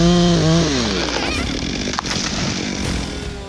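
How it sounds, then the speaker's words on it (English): A powerful chainsaw fells a tree while clearing a forest. The engine roars loudly and close, rising in pitch at the start and then settling into a steady, gritty cutting whine. "Thanks to the power and performance of the powerful chainsaw, the task of clearing the forest was completed quickly and efficiently in just 2 days."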